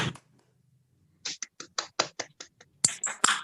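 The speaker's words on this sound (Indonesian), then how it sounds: "ayo kita tepuk tangan bersama" A classroom of children clapping their hands together, a short run of about ten separate, slightly uneven claps after a brief quiet pause, fairly close and moderately loud with no talking over them.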